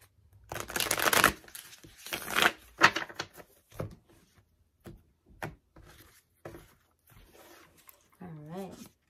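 Quick papery riffles and soft card slaps from shuffling tarot cards come in short bursts near the microphone, with someone talking briefly over part of it.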